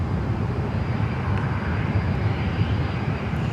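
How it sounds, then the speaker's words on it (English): Delta Air Lines Airbus A321neo arriving at LAX from Honolulu, a steady low engine roar that holds at an even, fairly loud level for a few seconds with no voices. "It's an A321 Neo."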